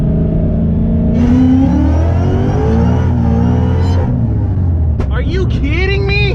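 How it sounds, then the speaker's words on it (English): A car engine revs hard through a spinning tire burnout, loud and close, with a rising whine near the end. Voices talk over it much of the time. "I'm fucking burning rubber"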